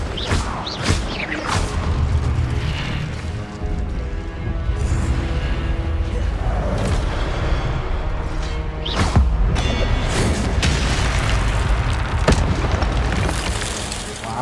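An Incendio fire spell blasts in the Hogwarts Legacy video game, heavy booming bursts and whooshes rolling over a dense, loud mix of game combat sound throughout.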